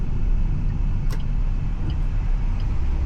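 A Suzuki Swift RS hot hatch driven in manual mode with paddle shifts gives a steady, close engine and road rumble inside the cabin, continuous and unbroken.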